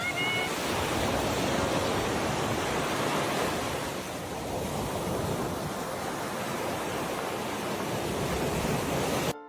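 Ocean waves wash steadily onto a beach in a continuous broad roar of surf with faint wind noise, fairly loud and unbroken, with no voices.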